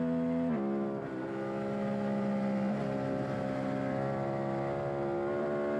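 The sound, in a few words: Suzuki SV650 race motorcycle on track lap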